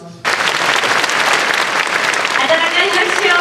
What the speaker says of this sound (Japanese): 温かい拍手をお願いいたします。